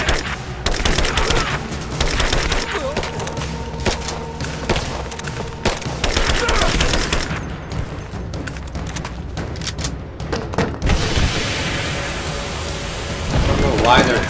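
Heavy gunfire from enemy soldiers in Rise of the Tomb Raider, a dense, continuous clatter of shots and impacts that runs loud throughout, with voices speaking over the battle.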